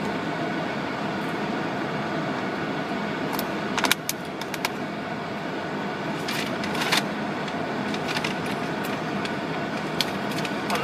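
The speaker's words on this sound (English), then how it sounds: "I'm turning on my car and turning on my heater." A running car engine and its heater fan make a steady, close broadband hum and whoosh on a cold, snowy day, with a few faint clicks and jingles scattered over it and no talking.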